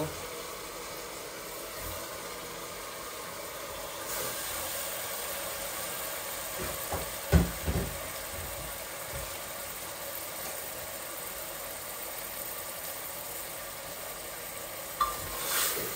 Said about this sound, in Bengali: এই দেখুন মুরগটা ঢেলে দিচ্ছি, বিসমিল্লাহ।